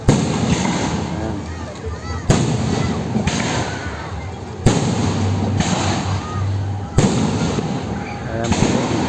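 Fireworks bursting overhead in Cavite, Philippines, in a series of loud booms every couple of seconds, with crackling and crowd noise between blasts.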